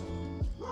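Dogs barking at a neighbour walking a dog past: a close, sharp bark rises out of steady background whining and yipping in a single short burst.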